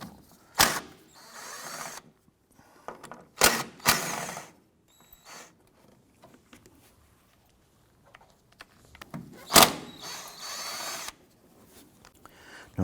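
An impact gun or power drill spins out two 12mm cross tower brace bolts on a 2004-2008 Acura TL, in loud close bursts separated by quieter rattling and handling noises, with no speech.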